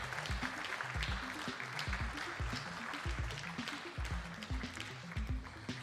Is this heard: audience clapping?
yes